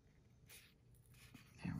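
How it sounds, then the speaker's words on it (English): A pencil marks a handmade journal book, giving faint, brief scratchy strokes up close in a quiet room, with a slightly louder rustle at the end. "Let me mark it with my pencil"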